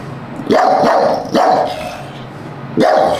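A dog barks three times, loud and near: two deep barks about a second apart, a pause, then one more.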